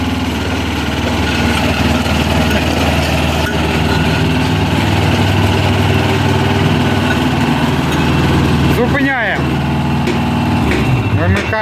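A Dynapac LP8500 remote-controlled roller runs continuously with a loud, steady engine drone close by, moving forward after vibration is switched off, with a short burst of voice near the end.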